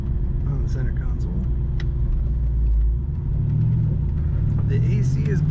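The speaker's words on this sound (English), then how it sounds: "Today we're driving a 1994 Ford Mustang." A black 1994 Ford Mustang GT convertible with a 5-speed manual rumbles steadily and deep while driving on the road, the engine note swelling slightly midway, as someone talks over the constant drone.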